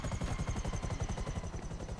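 Helicopter in GTA Online on PS4, a steady rapid rotor chop with a constant engine whine, close and loud throughout with no talking.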